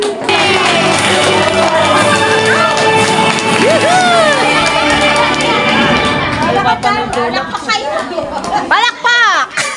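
A crowd at a high school batch reunion get-together claps, cheers and chatters while former teachers are welcomed, lively mixed noise with voices and shouts throughout, thinning toward the end.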